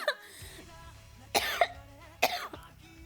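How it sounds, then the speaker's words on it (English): A few separate coughs, harsh and close, spaced about a second apart over a quiet low hum. "Sorry, I'm coughing."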